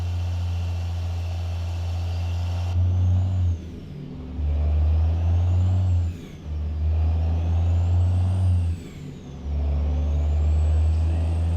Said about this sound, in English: It's a good looking truck.